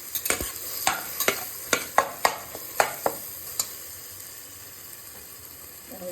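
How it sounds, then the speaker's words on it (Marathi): Onion frying in a pan until reddish-pink for spinach dal, a soft sizzle broken by a rapid run of sharp spatula taps and scrapes against the pan that fade into quieter frying near the end. "लालसर कांदा गुलाबी होईपर्यंत भाजायचा"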